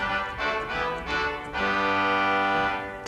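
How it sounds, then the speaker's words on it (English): A bright, brassy pipe organ English post horn reed stop sounds a short fanfare of several detached notes, then holds a loud sustained chord, with no voices. "This first is a fanfare reed called an English post horn."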